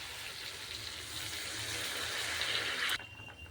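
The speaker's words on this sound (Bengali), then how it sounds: "দেখো তেল ছেড়ে এসছে, এবার জল দেবো।" Water poured into a pan of spiced potato curry cooking in oil with ginger, garlic and cumin, a steady broad pouring and sizzling rush that runs close and loud for about three seconds, then stops abruptly.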